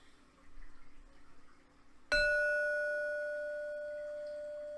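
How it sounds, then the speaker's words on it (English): A meditation bell is struck once, giving a sharp metallic strike followed by a clear ringing tone. The ring rings on and fades slowly, with a soft, faint background before the strike. "hearing that chime of the meditation bell"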